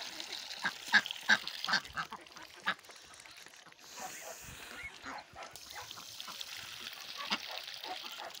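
Farm chickens cluck and quack in scattered bursts at a moderate distance after feeding, mixed with rustling and faint background noise.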